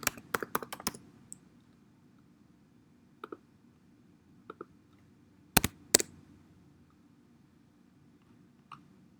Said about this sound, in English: I'll just type in his name.